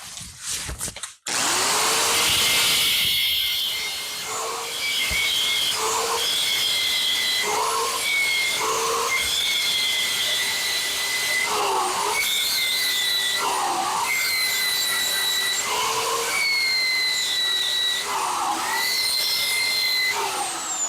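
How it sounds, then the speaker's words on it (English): An angle grinder works down a weld seam on a car body panel, a loud sustained whine that rises and dips in pitch in repeated strokes as the wheel bites the metal, heard up close without talk. "Now we're going to move on to grinding it"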